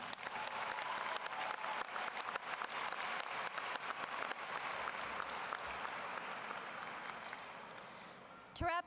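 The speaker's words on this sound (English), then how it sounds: "Let's give them one big round of applause." Sustained applause from a graduation audience honoring teachers, dense steady clapping filling the space for several seconds before tapering off, with a brief louder burst at the end.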